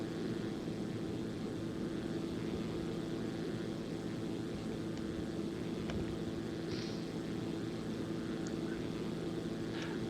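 A Zlin Z-142 propeller aircraft in the X-Plane 11 flight simulator drones steadily in flight over the Alps, a faint, even engine and propeller hum with no voices.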